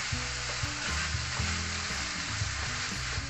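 Chicken pie filling with cream of chicken sizzles steadily in a pan while being stirred, close and continuous with soft scraping strokes and no talk.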